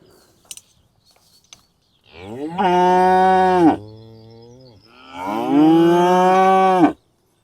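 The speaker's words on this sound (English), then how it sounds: "Herd of young cows." Two long, loud moos from a herd of young cattle close by on the South West Coast Path in South Devon, each drawn out for a couple of seconds, separated by a brief lower lowing.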